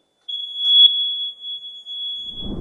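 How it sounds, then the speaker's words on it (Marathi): An electronic voting machine gives one steady, high-pitched electronic beep after a vote is cast. The tone is loud and close and holds for over two seconds, with a short low rumble near the end. "ज्या वेळेस 4ही लाईट लागल्यानंतर 4थं मत पडल्यानंतर लाईट तर लागेलच, त्याचबरोबर बीपचा आवाज येईल."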